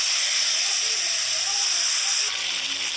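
A splash of water hits spices and frying potatoes in a pan, setting off a loud, dense hiss of steam and sizzle that holds steady and eases slightly near the end, while someone talks.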